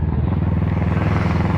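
A 2018 Kawasaki Versys 650 two-cylinder motorcycle with a Two Brothers aftermarket exhaust idles close by, a loud, steady low throb of rapid pulses with no voices.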